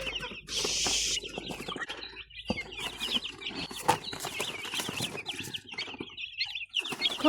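Farm chickens and young chicks cluck and peep near at hand in a steady stream of short calls, with a burst of wing flapping early on and a few soft rustles.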